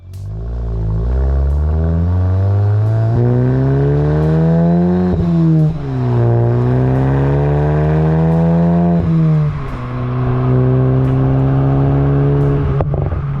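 A car filmed from a GoPro mount pulls away and revs through the gears, its loud, steady engine note rising and falling across several shifts close to the microphone, with no talk.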